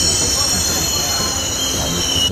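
An Amtrak passenger train pulls into Orlando station in Florida, its wheels squealing in a loud, sustained high screech over heavy rumbling rail noise, close and continuous.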